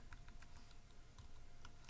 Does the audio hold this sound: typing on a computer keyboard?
yes